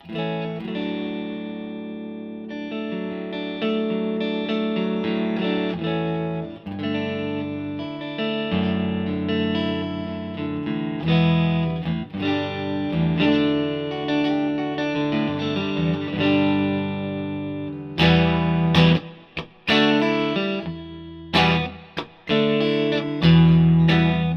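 Electric guitar played through a Fender '68 Custom Vibro Champ Reverb amp with heavy reverb, thick sustained chords washing together loudly, with a few choppy strums and brief gaps near the end.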